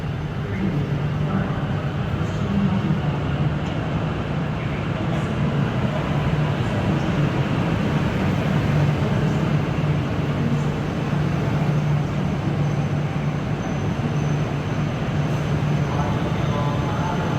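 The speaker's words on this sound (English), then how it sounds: "Our Shinkansen arriving at Omiya Station and bound for Akita Station." A Shinkansen bullet train arriving at Omiya Station, a steady continuous rumble and rushing hum lasting throughout with faint tonal whine, heard from the platform without a clear approach or stop.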